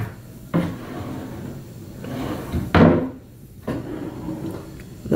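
Large wooden drawers in a room at Disney's Pop Century hotel slide open and shut. Several distinct knocks and thuds come close together, with quieter sliding between them.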